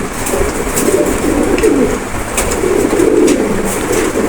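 Pigeons coo steadily at a pigeon farm where birds are sold, a continuous layered murmur of overlapping coos with soft wingbeat and rustling bursts throughout, close and fairly loud.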